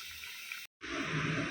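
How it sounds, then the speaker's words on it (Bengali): Water poured into a cooking pot while a Bengali dish of fish and potatoes simmers, a steady liquid rush that briefly stops and then resumes a bit louder. "আর একটু জল দিতে হবে।"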